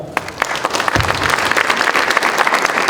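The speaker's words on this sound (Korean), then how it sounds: "큰 박수 부탁드리겠습니다." Audience applause at a Korean election campaign launch rally, a dense burst of many hands clapping close and steady for about three seconds, no talk.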